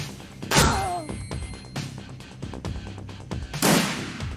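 Concussion grenades go off in the video game Shadowrun Returns, two heavy booming blasts with a whooshing tail between them over game background sounds.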